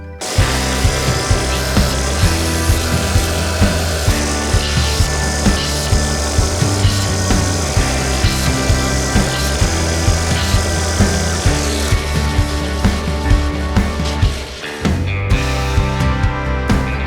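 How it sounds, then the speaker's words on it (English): A belt sander shaping wood for a mitered box, running as a steady loud whine with grinding as the wood is pressed against the belt, and a short dip near the end, no talking. "I'm just going to basically shape that on the belt sander"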